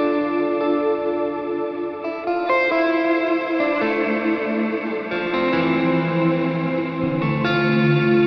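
A Yamaha Pacifica Standard Plus electric guitar played through shimmer reverb and delay: sustained, chiming chords that ring out and overlap in a lush, washed ambient tail, steady and fairly loud with no talking.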